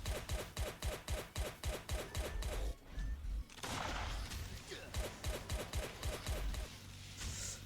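Glock pistol fire in the survival video game Last Day on Earth: Survival comes as rapid, evenly spaced sharp shots in loud bursts, broken by short pauses and scuffling game sounds.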